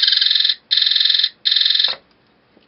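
Three bursts of a rapid, buzzing electronic machine gun effect from a UM3561A sound chip, each about half a second long with short gaps, loud and close, ending in a brief lower blip.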